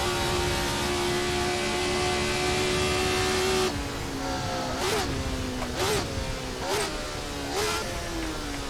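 Race car engine in Assetto Corsa screaming up through the gears toward fifth on the Thompson Road start-finish straight, a high rising whine cut by a sharp shift, then several quick upshift dips in succession, loud and close.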